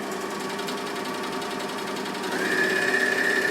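A Bernina L450 overlocker runs steadily as it sews down raw fabric edges, a continuous close mechanical whir that rises slightly in pitch and intensity near the end, with no talking.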